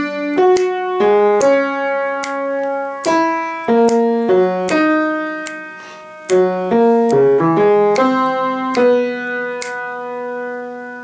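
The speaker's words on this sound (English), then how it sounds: "That's the second time through your synth solo." A keyboard plays the synth solo melody from a song, a clear run of bright single notes and short phrases over about eleven seconds, with no talking.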